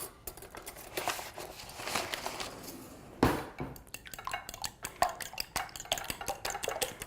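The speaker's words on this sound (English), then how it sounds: "I'll use a fork to just whisk the eggs." A fork whisks eggs in a bowl, rapid irregular metallic clinks and taps against the dish that start softly and turn into a quicker, sharper run of strokes.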